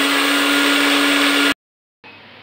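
A kitchen blender grinds turmeric with liquid and spices, a loud steady whirring roar for about a second and a half, then stops, followed after a short silence by a quieter, lower hum.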